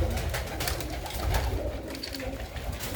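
A flock of blue pigeons coos continuously and fairly loudly nearby, overlapping throaty calls filling the air with a low rumbling texture.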